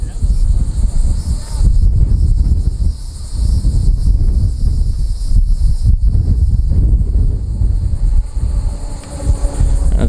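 Wind blowing outdoors on a trip to the Outer Banks, a loud continuous buffeting rush across the microphone with gusty swells throughout.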